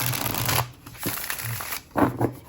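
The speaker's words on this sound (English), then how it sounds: "But beautiful cardstock, easy to shuffle." Close, papery riffles of tarot cards being shuffled in several quick bursts with short pauses between.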